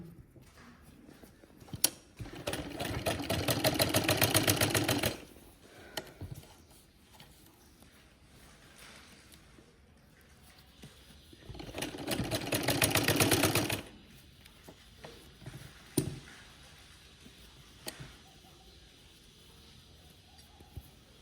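A sewing machine stitching elastic onto fabric for gloves, running in two loud, close, rapid bursts of several seconds each, separated by quieter stretches of fabric handling and clicks.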